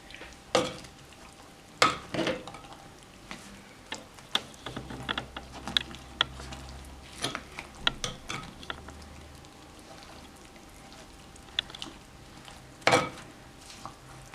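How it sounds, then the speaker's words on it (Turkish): A spoon lightly stirs olive oil into a güveç dish, sparse clinks and scrapes against the clay pot at close range with soft gaps between strokes. "Ve hafif karıştırıp"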